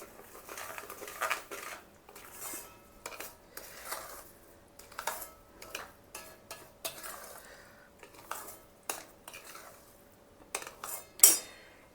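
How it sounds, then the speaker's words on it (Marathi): A spoon scrapes and clinks steadily through semolina in a pan for rava ladoo, with the gas turned off, making soft repeated strokes close by and no talk. "गॅस बंद करायचा आणि रवा ओतून घ्यायचा. छान असं मिक्स करून घ्यायचं."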